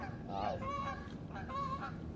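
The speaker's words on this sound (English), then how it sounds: "Hello, geese." Geese honking repeatedly nearby, several calls in quick succession, moderately loud with no talking.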